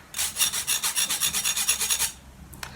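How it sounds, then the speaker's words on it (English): Rapid rhythmic scraping of metal on mesh, about a dozen quick rasping strokes in a steady pulse, close up, then a brief faint tap. "a very good substitute is a sieve and a spoon"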